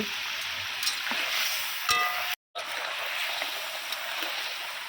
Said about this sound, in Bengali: ঝোলের মধ্যে মাছটা আরও কিছুক্ষণ রান্না করে নেব